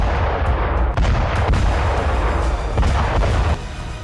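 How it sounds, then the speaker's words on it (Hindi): Ka-52 Alligator attack helicopter firing on positions along the Zaporizhzhia front, heard as dense, continuous rumbling bursts of heavy gunfire with repeated sharp booms and no voices. "ज़ेपोरिज़िया फ्रंट पर ही पुतिन के एलिगेटर ने बारूद बरसाकर नेटो के हथियारों को तबाह"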